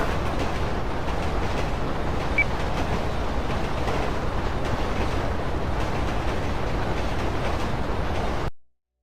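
A train rolling past in FiveM, the GTA V roleplay game, with a steady, dense rumble and rattle that holds even and loud for about eight seconds before cutting off abruptly, no voices.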